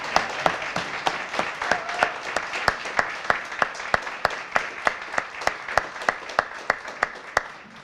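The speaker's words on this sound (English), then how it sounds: "give you a round of applause for your service" Audience applause for armed forces veterans at a county gathering. The clapping is sparse and steady, with sharp regular claps standing out above a soft wash of applause, at moderate distance.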